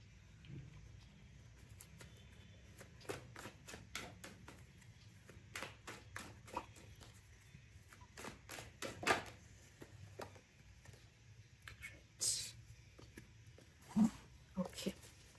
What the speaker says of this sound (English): Let me just shuffle a few more cards